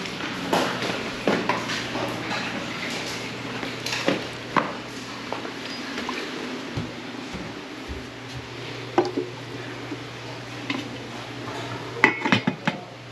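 A utensil knocks and scrapes inside a cooking pot with irregular clinks and bumps spread over several seconds, close by against a low steady hum, with no one speaking.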